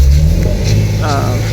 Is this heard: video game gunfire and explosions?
no